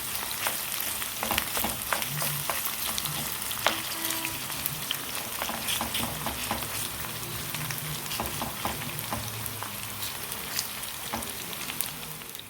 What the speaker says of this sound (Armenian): սոխը ավելացնում եմ թավայի մեջ, մի փոքր բուսայուղով տապակում եմ։